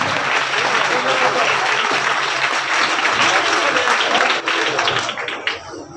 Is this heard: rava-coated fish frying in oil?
no